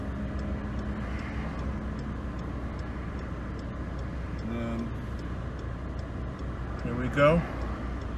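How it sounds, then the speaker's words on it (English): Road traffic in Gugulethu, Cape Town: a steady roar of passing cars fills the background, with one vehicle swelling louder near the end, and someone speaks briefly over it. "wait for traffic"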